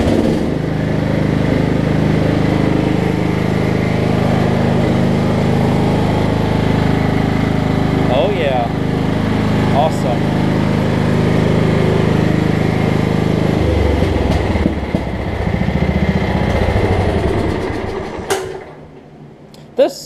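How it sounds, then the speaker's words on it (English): A Craftsman riding mower with a Kohler Command engine runs steadily nearby with a buzzing drone, then its pitch drops and it fades out near the end. "this lawnmower is awesome"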